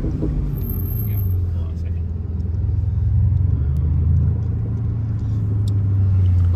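A Mercedes C63S and a BMW M4 Competition side by side in a roll race on back roads, with a loud steady engine rumble from inside one car and voices talking over it.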